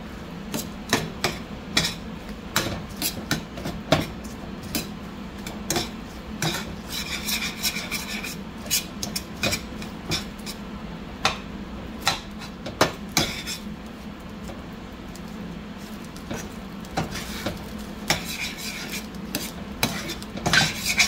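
A spoon stirs diced small onion into chorizo in a pan, giving steady scraping and rasping with intermittent clinks against the pan under a soft sizzle, close and continuous with no talking.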